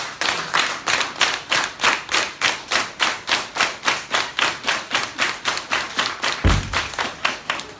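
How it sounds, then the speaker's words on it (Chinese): An audience at a Deyun Society crosstalk show claps in unison to welcome the band, loud, even beats at a steady brisk tempo, with one heavier thump near the end. "接下来让我们用热烈的掌声请出我们的乐队老师"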